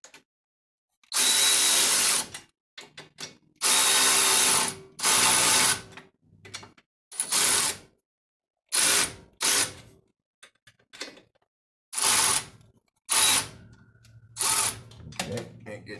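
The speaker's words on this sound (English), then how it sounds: "I might as well use the ratchet because I got it right here" A hand ratchet tightens bolts on a Skyjacker dual shock steering stabilizer fitted to a Dana 60 axle on a Mopar 440 Plymouth Trailduster, giving loud, close bursts of rapid clicking with short pauses between strokes.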